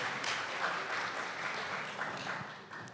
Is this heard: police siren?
no